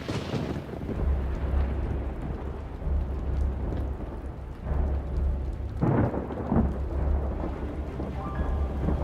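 Steady rain falls heavily while low thunder rumbles and rolls throughout, with a sharper crack of thunder near the middle.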